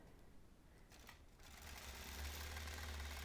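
A sewing machine runs during free motion quilting, with fabric guided under the needle. Its steady, faint mechanical whir builds slightly louder and denser toward the end, with no voices.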